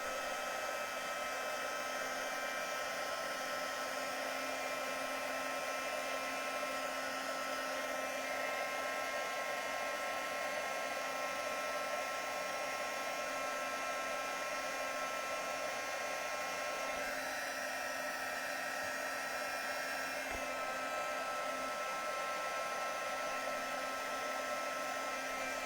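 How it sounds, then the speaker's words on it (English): A craft heat tool blows steadily to melt embossing powder on a card. Its constant, even fan-and-heater hum runs alone at moderate loudness for the whole stretch, with no voices. "So that's our embossing powder added, and we just need to heat it now with our heat tool."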